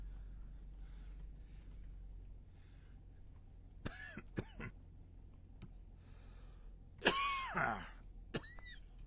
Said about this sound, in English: Sorry about the coughing, folks.